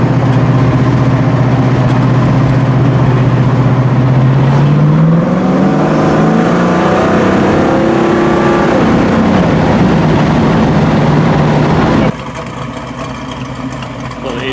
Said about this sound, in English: Pipes has 3 different levels of sound in the muffler, and this is in the middle.